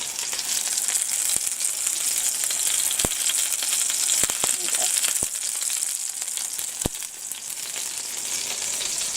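Turkey patties frying in a pan hiss with a steady, close sizzle, with sharp little spatter pops here and there throughout.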